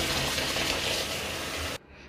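Fingerroot roots are rinsed in salt water, a steady close gush and splash of running water that cuts off abruptly near the end, leaving quiet.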